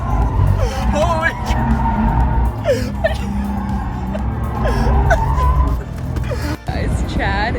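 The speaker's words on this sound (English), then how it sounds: "Chad is living his best life right now driving this Porsche" A Porsche sports car driven hard on a track, with a steady engine roar and repeated tire squeals through corners, while people talk and react over it.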